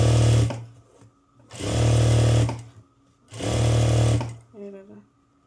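A sewing machine stitching a blouse runs in three loud bursts of steady whirring, each about a second long, with short pauses between them, close up, and a brief hum at the end.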